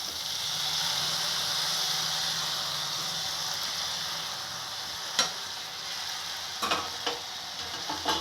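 Onion stalks and fenugreek leaves frying in a pan give a steady, close sizzling hiss, broken near the end by a few sharp scrapes of stirring.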